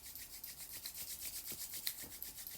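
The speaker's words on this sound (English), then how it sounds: "Start rubbing the palms to create some heat." Bare palms rub briskly together at close range, a steady soft swishing friction with faint rhythmic strokes repeating about every third of a second, quiet and continuous with no voices.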